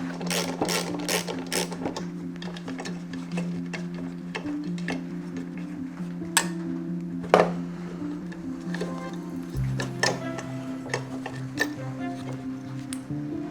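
A mower blade bolt on a Honda tractor deck is loosened anti-clockwise with a ratchet: bursts of quick clicking, then scattered clicks and knocks over a steady mechanical hum, close by.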